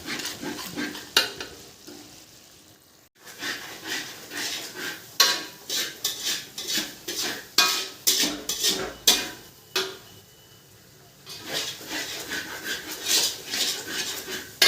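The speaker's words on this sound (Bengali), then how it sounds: "দিয়ে এটাকে আবার ভালো করে নাড়তে থাকবো, নেড়ে এর সাথে মেশাতে থাকবো" Chicken with sour yogurt stirred in a pot for chicken chaap, a ladle scraping and knocking against metal in an irregular rhythm of close, clattering strokes over a soft sizzle, with short pauses in between.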